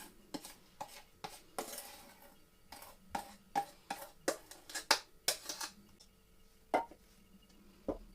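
Cookie dough made with lard, egg yolks and flour is mixed by hand in a bowl, giving a quiet run of irregular scrapes, taps and clinks against the dish, close by, with no talk.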